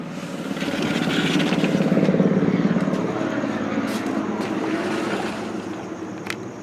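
A helicopter circles the area at night, its low, pulsing rotor drone rising and then slowly fading as it passes at a distance, steady and unbroken, with faint clicks over it.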